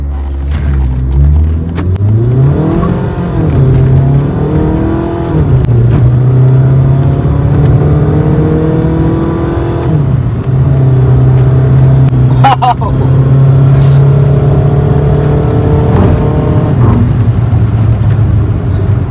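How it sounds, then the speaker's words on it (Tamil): A Stage 5 custom turbo Skoda Laura with a 2.0L diesel engine accelerates hard. Its loud engine drone climbs in pitch, drops back at gear changes and climbs again, heard steadily from close by for the whole stretch. "வெறித்தனமா போச்சு வண்டி"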